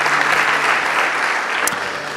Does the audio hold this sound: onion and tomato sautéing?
no